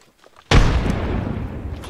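A frag grenade explodes in the video game Apex Legends: a sudden loud boom hits about halfway through after near silence, then a long dense rumbling tail fills the rest of the moment.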